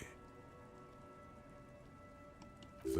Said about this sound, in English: Rain falls onto the roof of a woodshed.